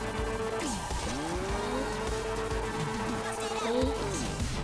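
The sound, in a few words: BMW M4 drift car driving, tires squealing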